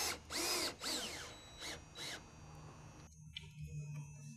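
Power drill driving a painted fastener with a neoprene washer into a metal roof panel over sealant tape: several loud whirring bursts in the first two seconds, then quiet.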